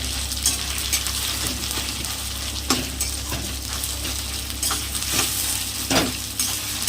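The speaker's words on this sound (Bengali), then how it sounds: "দিয়ে ভালো করে একটু ভাজা ভাজা করে নিচ্ছি" Shrimp and onion mixture frying in a pan for a stuffed pointed gourd dish, a steady close sizzle with occasional stirring scrapes and clinks of a spatula, no talking.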